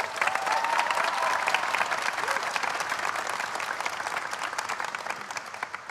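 Sustained applause from a ceremony audience at a university presidential investiture, a thick, even roar of many hands clapping that slowly thins toward the end, with a faint voice briefly audible early on.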